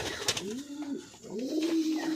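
A desi Sorkobaji pigeon coos close by in a few soft, rolling calls, each swelling and falling, with faint background noise around them.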